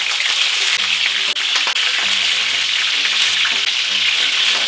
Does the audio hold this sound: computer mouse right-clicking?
no